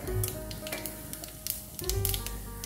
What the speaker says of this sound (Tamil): இப்போ இதில் வந்து நான் தாளிக்கிறதுக்கு கடுகு, உளுத்தம்பருப்பு, ஜீரா எல்லாத்தையுமே ஒன்றா தான் போடுறேன்